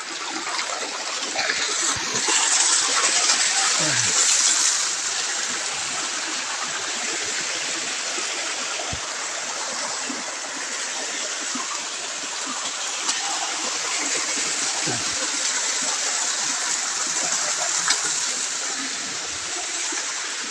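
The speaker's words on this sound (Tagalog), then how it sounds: "May falls na maliit" A small waterfall pours into a rocky stream, a constant broadband rush of water that holds steady and fairly loud throughout with no talking.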